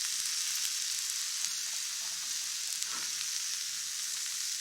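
Garlic sizzles on a hot grill plate beside chadol beef, a steady, bright frying hiss that holds evenly throughout, close up, with no talking.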